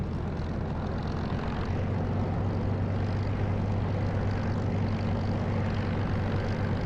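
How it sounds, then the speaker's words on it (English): A Spitfire's propeller engine drones in a flight sim with the canopy open, a steady, loud, low throbbing roar blended with rushing prop wash that holds constant throughout. "With it open, you get this lovely, the sound of like the prop wash."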